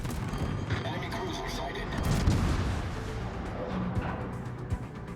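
Heavy naval gunfire from a San Martin warship in the World of Warships video game rumbles as a continuous, dense barrage of low booms, with someone talking over it throughout.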